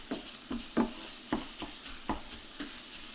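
Sausage browns in a pan while a tool breaks it apart, giving a soft sizzle with about seven rhythmic scraping, stirring strokes, close and fairly quiet, with no voices.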